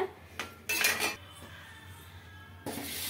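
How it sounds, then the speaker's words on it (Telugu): Metal pan clattering and clanking as it is set under a pot of egg dum biryani on a stove, a few sharp metallic knocks followed by a scrape and a final clang. "అందుకని నేను ఇక్కడ వచ్చేసి మళ్ళీ కింద అడుగు అంటకుండా ఉండడానికి అయితే ప్యాన్ అయితే పెట్టేస్తున్నాను కింద"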